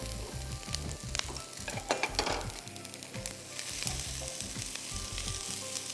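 Sliced onion and capsicum sauté in a little oil in a pan, with a steady close sizzle and repeated clinks and scrapes of a spoon stirring, no talk.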